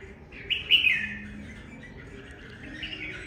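A wild-caught red-whiskered bulbul sings a bright, twisting, warbling phrase up close, loud at first and then trailing off into softer chirps, with no voices.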